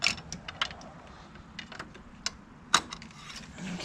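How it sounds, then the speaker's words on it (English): Ignition coil being worked loose and pulled from a 2018 Subaru engine during routine servicing: quiet close-up clicks, plastic snaps and small metallic rattles, scattered and irregular, with one sharper click near the end. "Now I'm pulling the coil."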